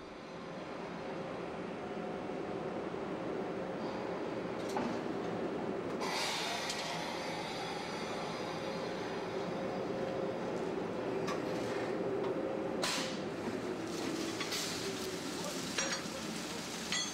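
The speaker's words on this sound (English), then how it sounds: "A new locomotive is being coupled to the rear of the train." Railway yard sounds as a new locomotive is coupled to the rear of the Venice Simplon Orient Express: a steady low engine rumble with occasional sharp metallic clanks and hisses, close and continuous, no talk.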